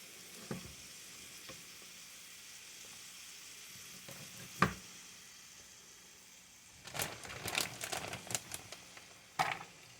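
Casserole ingredients fry together in a pan with a soft, steady sizzle, broken by occasional stirring scrapes and clinks that grow busier toward the end.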